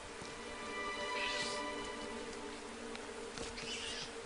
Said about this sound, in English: A swarm of critters jostled and jumped behind the gate.